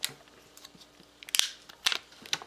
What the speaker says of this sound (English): You just tear this down and peel it off